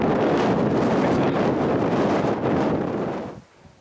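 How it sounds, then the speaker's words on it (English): Strong, bitterly cold wind buffets the microphone on a hillside along a hiking trail, a loud continuous roar that drops away abruptly near the end. "Okay, it's incredibly windy. It's very cold and bitter."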